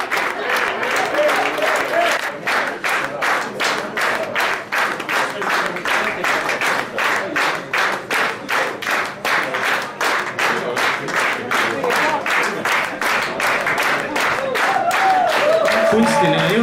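Audience at a jazz concert by a quartet applauding, dense sustained clapping that falls into rhythmic unison partway through, then swells again toward the end with some crowd voices.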